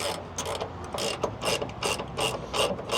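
A hand ratchet tightens a nut on a shock absorber of a Peterbilt 389 truck, giving a steady run of rapid, close clicking pawl strokes in quick rhythmic bursts, loud and with no talking.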